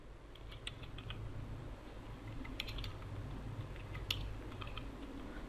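Quiet, steady typing on a computer keyboard while writing PHP code, with a rapid patter of light key clicks and a few sharper taps.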